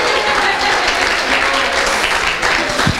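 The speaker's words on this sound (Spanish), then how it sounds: "un aplauso para el apóstol" A church congregation applauds, filling the room with dense, loud clapping that holds steady throughout, with no voices rising above it.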